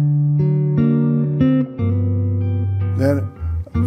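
Solo jazz blues guitar played fingerstyle, with bass notes punctuating a syncopated pulse under chords over a few seconds; a brief breathy noise near the end.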